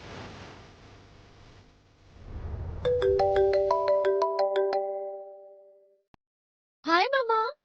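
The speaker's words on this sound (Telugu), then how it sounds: "Sita phone lift చేయట్లేదేంటి?" A phone rings with a bright melodic ringtone of repeated rising tones for about three seconds, then goes quiet without being answered, after a low indoor rumble; a short voice follows at the end.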